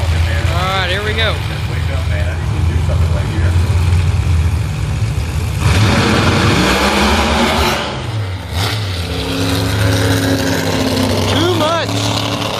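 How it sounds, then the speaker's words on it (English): Two screw-blown late model Camaro pro mod drag cars launch side by side, engines roaring loudly with rising and falling revs and sharp surges, accompanied by announcer talk. "The 2 late model Camaros, both screw blown."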